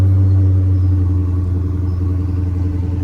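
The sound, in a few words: Dodge Hellcat Redeye engine cold start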